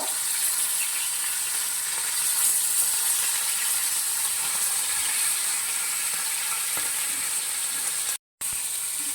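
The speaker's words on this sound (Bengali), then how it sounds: "আপনারা খুব সাবধানে মাছগুলো উল্টাবেন আর মাছগুলো আমি খুব একটা লাল করে ভাজবো না মিডিয়ামভাবে ভাজবো" Fish frying in a pan of hot oil for a poppy-seed paste fish curry, a steady bright sizzle and hiss that holds evenly and close, with a brief break near the end.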